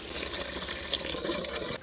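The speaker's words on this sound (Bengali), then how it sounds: "এখন গোস্ত কষানোর পান্নে একটু পানি দিয়ে দিব" Water splashes and gushes steadily into a cooking pot of spiced meat for a couple of seconds, then tapers off near the end.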